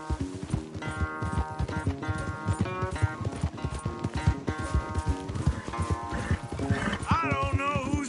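A horse gallops in Red Dead Redemption 2, its hooves pounding in a fast, steady, continuous rhythm throughout, close and loud, with game music or ambience mixed in.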